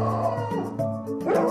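A dog gives a short run of close, whiny vocal sounds, howling yips that rise and fall in pitch over about a second and a half, heard alone.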